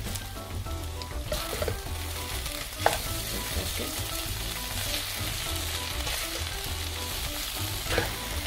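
Stuffed bitter gourds, filled with keema, frying over low heat in a pan, giving a steady close sizzle throughout with occasional soft scrapes and clinks as they are stirred and mixed.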